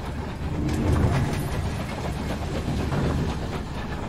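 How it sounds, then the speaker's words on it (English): A train passes in the video game Night in the Woods, a heavy rumbling roll with rhythmic clatter holding at a fairly loud, even level with no talking. "Trains."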